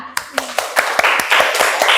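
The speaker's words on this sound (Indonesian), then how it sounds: "kita kasih tepuk tangan untuk Mbak Aira." A small group claps steadily in a classroom teaching-practice session, sharp hand claps building into brief applause at close range.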